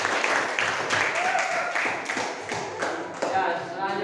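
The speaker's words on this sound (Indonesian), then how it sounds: "Tepuk tangan." Classroom students clapping their hands together in a lively burst of overlapping claps, fairly close and moderately loud, with a few voices mixed in.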